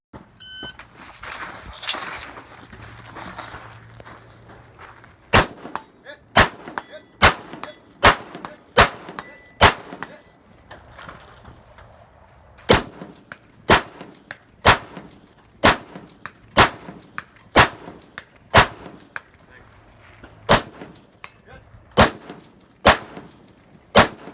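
At a shooting match, gunshots strike six hanging steel targets 100 yards downrange, each sharp crack followed by a ringing clang, fired in quick, fairly even strings of about a dozen and a half hits with short pauses between groups.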